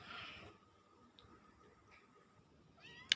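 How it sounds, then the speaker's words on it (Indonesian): A pet cat gives a short, faint meow close by in a quiet indoor room, followed by a sharp click near the end. "Sekarang kita masukin kucing-kucing."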